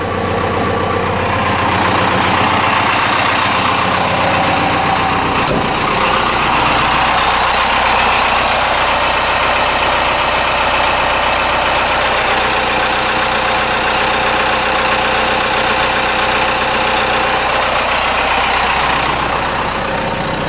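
A Ford truck with a Cummins diesel engine and a rigged vacuum pump idles steadily, a loud close rumbling drone holding constant with a brief click partway through.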